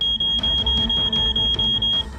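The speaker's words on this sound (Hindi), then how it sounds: "इस एक रहस्यमयी मैसेज के साथ ही बीप की आवाज आनी शुरू हो जाती है।" A pager sounds a shrill, high electronic beep that pulses rapidly and keeps going for about two seconds before fading. It is loud and close, with no talking over it.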